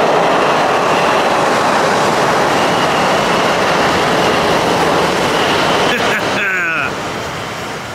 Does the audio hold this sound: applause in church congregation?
no